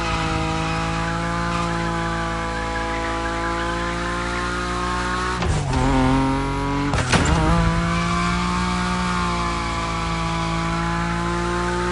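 A Nismo car slides at high speed in the racing game The Crew Motorfest, its engine holding a loud, steady harmonic drone whose pitch dips and sweeps twice midway, with no talking.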